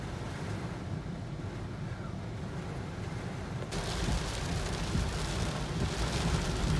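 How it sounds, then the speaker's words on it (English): Steady rain pours outdoors near Cape Canaveral during a thunderstorm, a dense continuous wash with low rumbling underneath that grows louder and brighter about halfway through, with no voices. "Lightning, thunder."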